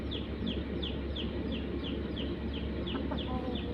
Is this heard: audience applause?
no